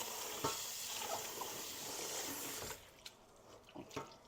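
Elderberries get rinsed in water, a faint, steady running-water rush for nearly three seconds, then quieter splashes and small handling knocks, with no talk.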